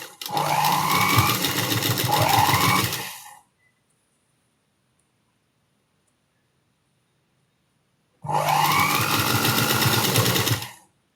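A sewing machine stitches a scallop-embroidered blouse sleeve, running in two steady whirring bursts of about three seconds each. The bursts are separated by a long silent pause, and the sound is close and loud with no talking.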